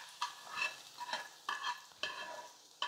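Onions and curry leaves frying in a pan with repeated stirring scrapes, a steady crackle of oil punctuated by several sharp utensil strokes, close and moderately loud.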